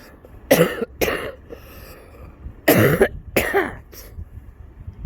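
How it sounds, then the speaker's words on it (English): A man with a phlegmy cough coughs in two bursts of several harsh, wet coughs, close by, with quiet pauses between and no talking. "Just coughing a fair bit."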